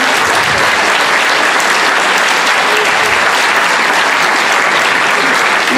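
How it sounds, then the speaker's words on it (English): A senior awards ceremony audience applauds its scholarship committees with loud, dense, sustained clapping that stays steady throughout, close and filling the hall. "can we give them a round of applause for their generosity?"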